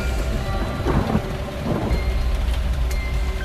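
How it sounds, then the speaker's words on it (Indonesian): Heavy rain pours down steadily with loud rumbling thunder rolling through, a dense roar of downpour with swelling low booms around the first and second seconds, close and intense. "hujan turun dengan sangat deras, diiringi petir yang sangat besar"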